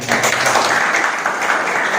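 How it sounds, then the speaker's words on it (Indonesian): Classroom applause from students clapping together, a continuous close, fairly loud patter of many hands with a hint of voices mixed in. "Tepuk tangan."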